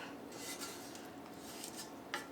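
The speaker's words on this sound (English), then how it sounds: "We're just gonna give that a good scrape." A utensil scrapes and rubs across a baking dish holding a meat-and-sauce stuffed pepper mixture, giving a steady, close, gritty rasp with a sharper scrape near the end and no talking.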